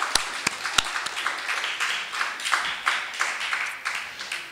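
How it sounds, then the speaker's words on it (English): A conference audience gives itself a big round of applause at a closing session, a sustained wash of clapping with a few sharp individual claps standing out near the start. "so give yourselves a big round of applause for that"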